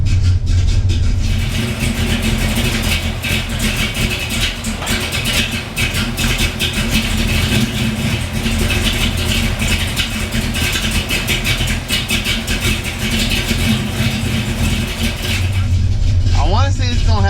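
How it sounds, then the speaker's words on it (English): A 1966 Chevelle SS with a 396 cubic inch big block Chevy V8 idles close by in a steady, deep, loud rumble that holds for the whole stretch. "is what a big block Chevy sounds like. 396 cubic inch to be exact."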